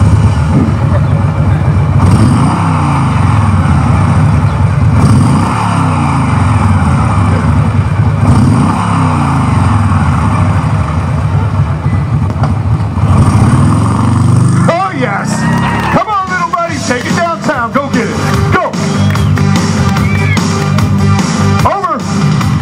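A Harley-Davidson motorcycle engine runs with a loud, close, throbbing rumble. Partway through, the pitch rises and falls with revving and gear changes.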